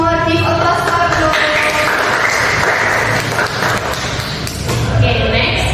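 A classroom group claps for a student, with steady, dense applause that fills the space loudly and continuously from start to finish, with voices mixed in.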